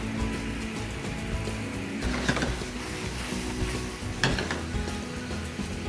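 A Thai stir-fry sauce for fried pork ribs with garlic sizzles in the pan as a little stock and holy basil leaves go in, with a steady close hiss and crackle and a couple of brief scraping stirs, no talking.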